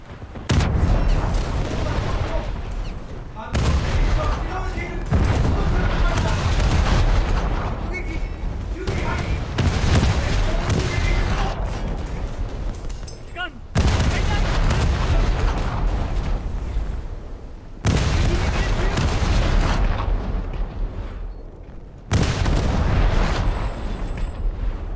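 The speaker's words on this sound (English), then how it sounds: "the Omaha is shooting me as well" The US cruiser Omaha fires in World of Warships, heavy naval gun salvos booming in repeated thunderous bursts, each a few seconds long with short gaps between, loud and close, with a voice talking over them.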